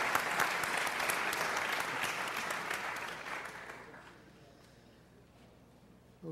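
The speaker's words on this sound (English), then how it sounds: "Big round of applause for Mr." An audience gives a burst of loud applause for a speaker at a talk, clapping densely at first and then fading away over several seconds into near silence.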